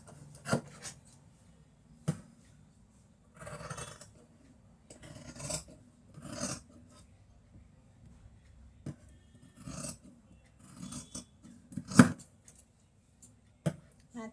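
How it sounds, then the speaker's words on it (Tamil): Scissors cut through blouse fabric in scattered, quiet snips and short runs of cutting, separated by pauses, heard up close with no talk. "இதை கட் பண்ணி எடுத்துக்கலாம்."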